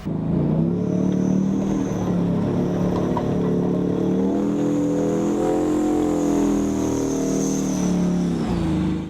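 Engines of military combat vehicles, recently brought back from storage, run in a steady, loud droning rumble with a faint high whine that rises and falls over several seconds, with no talk.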